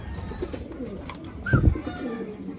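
Pigeons coo in short soft burbling calls against low outdoor background noise, with one louder close coo about midway through.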